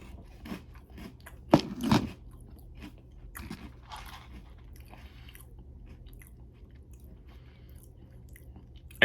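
Someone bites into Magic Spoon Fruity cereal: a few loud, close crunches near the start, then softer, scattered chewing in a quiet room.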